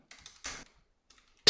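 Bursts of quick keystrokes on a computer keyboard while writing HTML code, a short flurry followed by a few scattered taps, close and clear with no talking.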